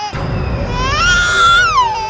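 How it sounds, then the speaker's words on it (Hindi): A baby cries in a drawn-out wail that rises and then falls away, loud and close, heard in a dramatized night scene set in a jungle. "बच्चे की रोने की आवाज?"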